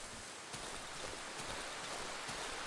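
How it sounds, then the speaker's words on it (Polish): Steady rain falls in the survival horror video game Darkwood, a dense, even hiss of drops with no talking over it. "Deszcz."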